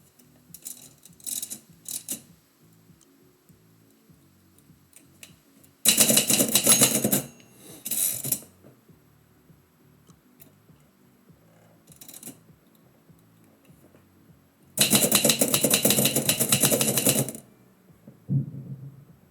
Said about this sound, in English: especially while the typewriter sings